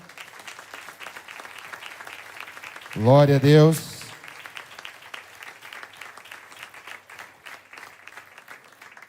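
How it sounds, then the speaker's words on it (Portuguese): A church congregation applauds in a loud burst lasting about a second, between stretches of a man preaching in Portuguese, with faint room noise underneath. "Vamos aplaudir ao Senhor."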